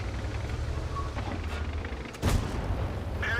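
A tank gun fires in a tank battle video game, the T42 American medium tank, with one loud, sudden boom that rings out briefly over a low, steady engine rumble.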